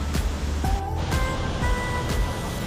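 Rushing water at Vanthawng Falls, a waterfall in Thanzawl, Mizoram, a dense continuous roar of falling water, steady and loud with no talk.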